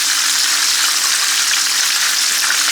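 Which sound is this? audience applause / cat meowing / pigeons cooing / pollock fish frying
pollock fish frying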